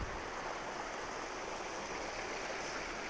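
Steady, even rush of spring water flowing near a pipe and hose, a constant close wash with no breaks and no voices.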